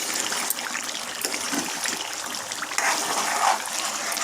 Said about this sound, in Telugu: మనం మూత పెట్టుకొని తీస్తూ ఉన్నప్పుడు ఇలా ఉడుకుతూ ఉంటుందండి